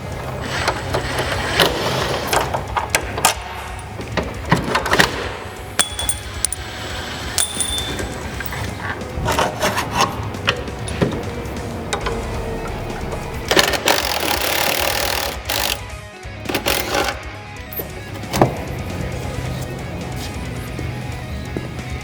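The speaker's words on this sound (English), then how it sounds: "there's two 5/16 bolts on the passenger side of the vehicle holding on the idler arm. And I'm going to take these out while Trey works on the driver's side" Two 5/16 bolts holding the idler arm on the passenger side of a 1965-70 classic Mustang are worked loose, giving continuous rapid mechanical clicking and ratcheting with scattered clanks.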